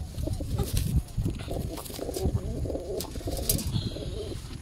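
Several pigeons coo softly and repeatedly nearby, with occasional wing flutters and light rustling in between.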